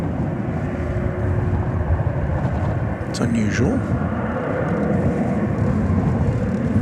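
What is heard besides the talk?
Airbus A321 jet taxiing at DFW airport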